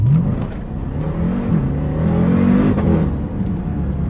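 700 BHP Jeep Grand Cherokee Trackhawk accelerating hard, its engine note climbing through the revs with a brief dip at a gear change before rising again, loud and close inside the cabin.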